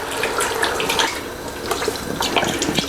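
Coconut milk pours in a thick, steady stream into a pot for a Thai yellow chicken curry, splashing and gurgling loudly up close with no voices.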